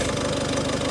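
A Ford Fiesta Mk6 1.6 TDCi diesel idles after a glow plug replacement, a steady, even, low rumble heard up close with a fine repeating clatter and no voices.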